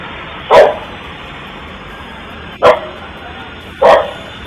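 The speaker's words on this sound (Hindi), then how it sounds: "कुत्ता भौंकने लगता है" A dog barks three times at spaced intervals, each bark sharp and short, standing out loudly over a low, steady background hiss with no talking.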